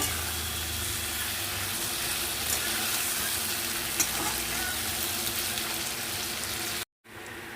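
A spice paste of ground ginger and chillies sautés in a pan with a steady, close crackling sizzle that stays even throughout, then cuts out briefly near the end; no voices.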